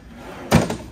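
A drawer in a hotel room is shut with a single solid thunk midway through, close and fairly loud against a quiet room.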